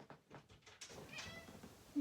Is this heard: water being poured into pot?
no